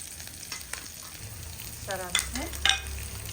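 Ginger pieces and curry leaves frying in hot oil for a bottle gourd yogurt chutney, a steady soft sizzle with a few sharper crackling pops as the leaves hit the oil, close and alone without talk.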